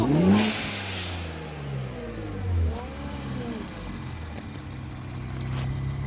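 Infiniti Q60 Red Sport with an HKS blow-off valve gives one sharp rev that drops back, then a smaller second blip, followed by a steady low idle hum close by.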